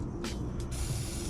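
A WD-40 aerosol can sprays in one short, close hiss during work installing pistons in a Mitsubishi EVO X 4B11T engine.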